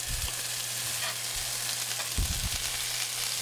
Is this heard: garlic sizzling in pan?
yes